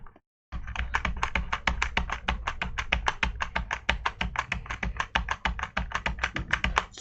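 Keys on a G Lab gaming keyboard, a non-mechanical board, pressed rapidly and continuously in a dense, even clatter of close, crisp taps with no talking.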